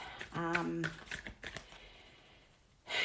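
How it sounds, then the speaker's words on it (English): Tarot cards are shuffled by hand in quick, soft riffling bursts and papery clicks, close by, with a voice briefly sounding at the start and a louder rustle at the very end. "I'm just shuffling your cards"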